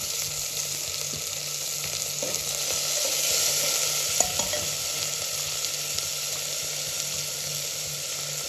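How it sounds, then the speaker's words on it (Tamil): A small tomato and one onion fry in a pot as the base for a fish curry with vegetables, giving a steady, close hiss of sizzling oil that holds even throughout, with a single faint clink and no speech. "சின்னதாக ஒரே ஒரு தக்காளி, ஒரே ஒரு வெங்காயம்."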